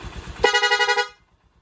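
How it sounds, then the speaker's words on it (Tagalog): After a moment of engine noise, a Honda TMX Supremo motorcycle's horn sounds in a rapid run of quick pulsing toots, then stops abruptly. "Number 2, yun yung rapid horn nya."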